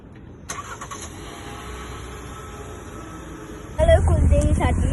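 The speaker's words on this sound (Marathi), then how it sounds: "पप्पा आता गाडी काढतायत." A family car is started and pulled out for a drive, its engine idling steadily at moderate level before a louder, rougher burst of noise near the end, with faint background sound.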